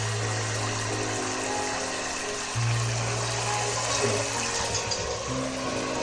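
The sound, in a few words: sink tap running, filling a container with water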